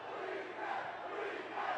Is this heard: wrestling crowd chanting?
yes